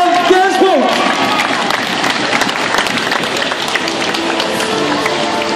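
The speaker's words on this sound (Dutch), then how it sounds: "Uw applaus voor de winnaar van vandaag, Guillaume van Kersbeek." A crowd applauds the winner at the finish of the GP Monsere cycling race in Roeselare. Dense clapping continues throughout, with a voice speaking over it.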